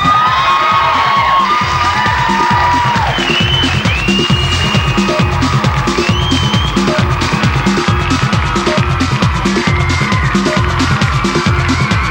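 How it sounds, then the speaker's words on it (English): A studio audience cheers and whoops loudly for a finished haircut, with shouts rising over music that has a strong, regular beat throughout. "If you like her hair, I want you to give her a big cheer."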